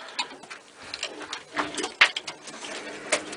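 Pigeons, including ash red cocks, in a loft, giving soft, scattered coos and calls with a few sharper ticks and flutters, close and irregular, without talk.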